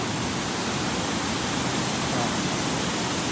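Steady, roaring rush of falling water, broad and constant like heavy noise, with no voices or breaks.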